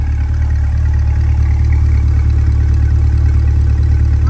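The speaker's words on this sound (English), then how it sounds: "Nice chug to that exhaust." A 2020 Corvette 2LT Z51's V8 exhaust rumbles deep and steady at close range, a continuous low chugging idle with no voices.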